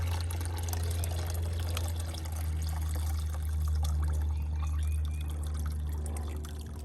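Used acid water is tipped slowly back into a measuring cup during pool salt cell maintenance, giving a soft continuous pour over a steady low hum.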